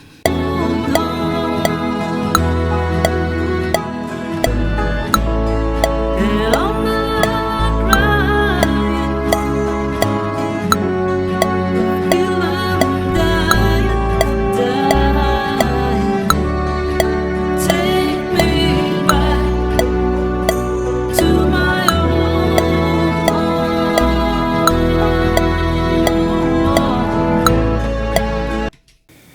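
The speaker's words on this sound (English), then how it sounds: "I'm going to just add in the other 2 chords of the triad as we go along." Layered keyboard music with a steady low bass line and sustained chords stacked above it, playing continuously at a moderate, even level.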